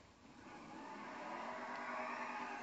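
A Truffade Z-Type car with a turbo in GTA V Online, its engine humming faintly and rising gradually in pitch and strength as it revs, a smooth continuous whir with no speech.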